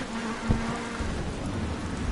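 Thunder rumbles through steady heavy rain in a rainstorm in a sim racing game at Snetterton, a low continuous roll under the hiss of rain, with a brief sharper crack early on.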